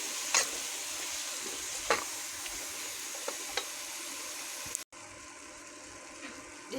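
Potatoes and taro stolons fry in a pan while being stirred, producing a continuous close sizzle with a few utensil scrapes and clicks. Near the end there is a brief cut, and then the sizzle returns slightly quieter.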